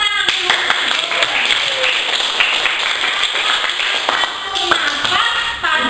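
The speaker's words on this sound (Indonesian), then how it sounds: "Iya, tepuk tangan." A classroom of children claps together in a sustained burst of applause lasting several seconds, with dense overlapping hand claps and some shuffling and voices mixed in, fairly close and loud.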